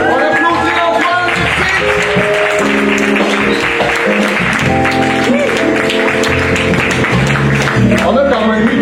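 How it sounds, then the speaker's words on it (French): An audience at a slam poetry night in Montréal applauding a poet after the scores, sustained clapping from a roomful of people mixed with loud talk and music over it. "On applaudit Antoine."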